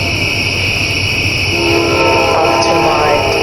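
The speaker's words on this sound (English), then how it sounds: "There's a train. You can probably hear that." A train passes near a wooded hollow in Ohio, a loud, steady rumble of rolling cars, with a sustained horn blast rising partway through.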